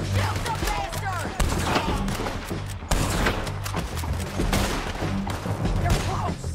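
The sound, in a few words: gunfire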